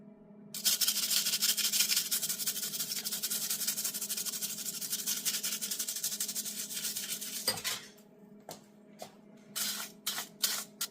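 Scrubbing and rinsing patina off a homemade copper pendant shade gives a long, steady rough rubbing hiss, which stops abruptly and is followed by a few short scrapes.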